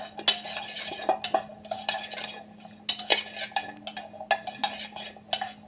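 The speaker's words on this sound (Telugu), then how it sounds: "అన్నీ వేసి మొత్తం ఒకసారి మిక్స్ చేసుకోండి." A spoon clinks and scrapes against a bowl while bread omelette ingredients with masala are mixed, producing irregular light taps and stirring scrapes, fairly quiet and close, with no talking.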